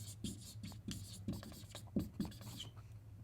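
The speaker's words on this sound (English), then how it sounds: "I'll write it down for you" Pen or pencil writing on paper, a series of short scratchy strokes with small pauses between them, close and fairly quiet over a steady low hum.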